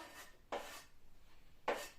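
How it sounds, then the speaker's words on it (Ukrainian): Two brief, soft scraping clatters of stewed vegetables for zucchini caviar being tipped into a plate or bowl, separated by a quiet pause. "Викладаю я в тарілку чи миску поки що."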